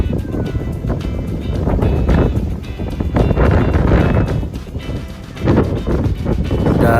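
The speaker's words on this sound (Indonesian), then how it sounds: "Dan ini anginnya sangat kenceng ya bro." Strong, gusty wind buffets a bridge at Sayang Heulang beach in the middle of the day, a loud, steady roar of wind noise rising and falling in surges, with no speech.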